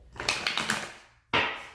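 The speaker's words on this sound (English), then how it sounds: "all I need to do is just to shuffle the cards" Oracle cards being shuffled by hand, with a run of quick papery riffling bursts, a short pause, then one more louder shuffle close by.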